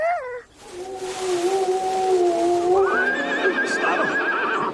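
A horse in an animated cartoon lets out a long, loud whinny, a rising cry followed by a sustained shaky neigh lasting several seconds.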